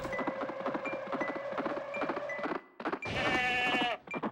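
Sheep bleating in the racing video game Touge Max 2, a loud wavering bleat cutting through the engine drone, repeated briefly after a short gap.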